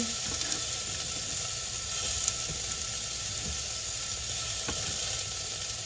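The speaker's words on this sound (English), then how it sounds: "Onions, garlic going in." Chopped onions and garlic sizzle in a hot pot, a steady soft frying hiss with occasional faint pops and spatters, alone without talk.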